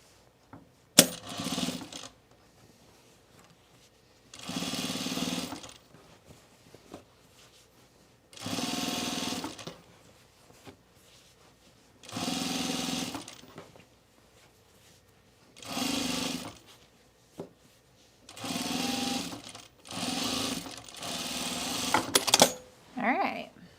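Overlocker serging dress fabric in repeated bursts of a few seconds each, separated by short pauses, with a steady mechanical whir at close range.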